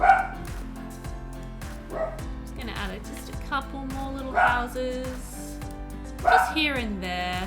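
Dogs in the city-building game Cities: Skylines bark and yip repeatedly, close and fairly loud, under someone talking throughout.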